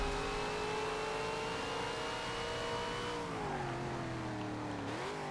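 A race car in Forza Motorsport 7 holds a high, steady engine note that drops as it shifts and slows, then climbs again, close and loud throughout.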